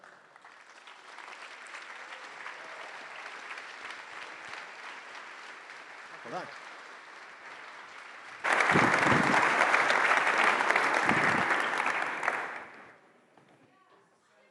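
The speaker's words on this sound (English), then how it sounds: "Stand up and give a warm applause for Edward Russell." A standing audience at a startup technology conference applauds a speaker walking on, moderate clapping that suddenly surges into a loud, full ovation, then fades out, with brief talk over it.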